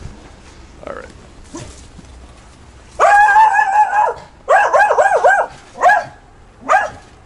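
Dogs barking loudly and close by, a run of sharp, high barks and yelps in irregular bursts after a quiet start.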